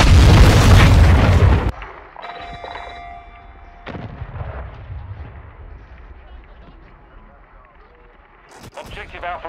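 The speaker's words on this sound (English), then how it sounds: "Friendly cruise missile deployed." A cruise missile strike in Call of Duty: Modern Warfare 2 (2022) Ground War starts with a massive, close blast that dies away into a low rumbling tail, followed later by a second thud and crackling debris.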